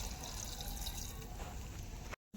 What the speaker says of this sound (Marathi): पाणी टाकून देते